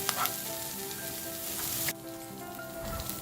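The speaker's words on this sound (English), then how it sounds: "Fry the dried prawns until fragrant." Pre-soaked dried prawns fry in a wok with a close, steady crackling sizzle and a few stirring scrapes, dipping briefly midway before continuing, with no speech.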